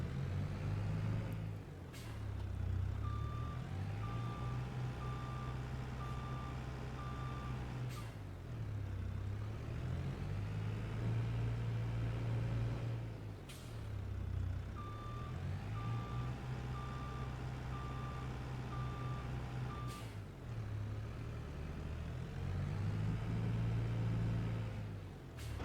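In Farming Simulator 22, a John Deere 3046R compact tractor backs up with an electronic beeper pulsing in evenly spaced bursts over a steady engine hum, with periodic hissing air releases and no speech.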